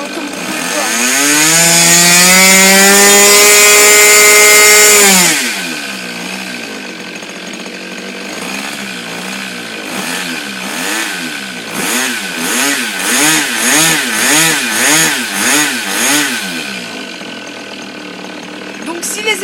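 A model airplane engine on a test run buzzes loudly and steadily for about five seconds, then drops to a lower idle that surges rhythmically up and down.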